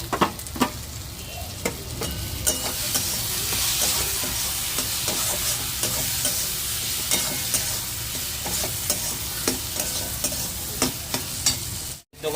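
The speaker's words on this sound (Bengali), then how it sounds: "আর আলুগুলো দিয়ে মশলার সঙ্গে ভালো করে কষিয়ে নেওয়া হবে।" Potatoes sauté in a pan with spices including chilli powder, a loud continuous sizzle broken by regular scraping stirs, ending in a brief drop to silence.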